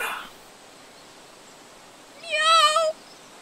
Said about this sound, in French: je crois que c'est juste un chat.